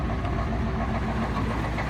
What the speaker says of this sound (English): it does run, and as you probably see, it runs extremely badly